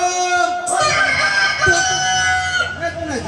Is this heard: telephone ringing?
no